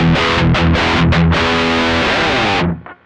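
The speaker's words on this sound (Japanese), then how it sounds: "アンプを歪ませた状態で TS9 をオンしていきたいと思います" Electric guitar played through an Ibanez TS9 Tube Screamer overdrive pedal into an already distorted amp, loud thick overdriven chords struck in a short rhythmic phrase, then a sustained ringing chord that cuts off near the end.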